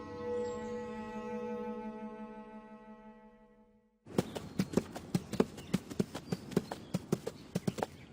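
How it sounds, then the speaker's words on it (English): Horse hooves clip-clop steadily at a walking pace, close and crisp, after several seconds of a sustained tonal drone that fades out. "That horse."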